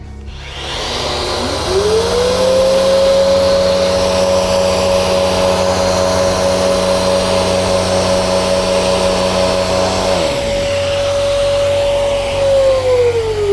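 Festool RO 90 DX sander running in random orbit mode while connected to a dust extractor, spinning up to a loud, steady high whine that holds for several seconds, shifts pitch, then winds down.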